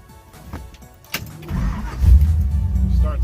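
A 1955 Chevy Bel Air with a 502 V8 and Brodix heads cranks briefly, then fires into a loud, deep rumbling idle that swells and settles close by.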